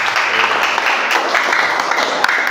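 A university class applauds together in a room, a continuous wash of clapping hands that holds level across the short stretch.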